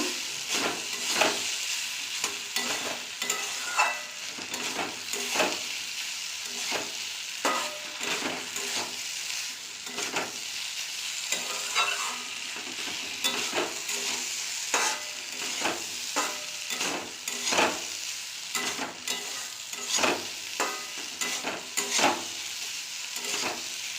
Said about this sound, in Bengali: আমি ভালো করে আলু পেঁপের সাথে কষিয়ে নেব মশলার সাথে সব রকম ভালো করে কষিয়ে নেব